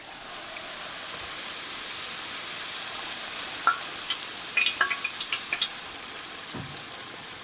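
A Mexican buñuelo dough round fries in a pan of hot oil, a steady broad sizzle with scattered crackling pops building in the middle and continuing to the end.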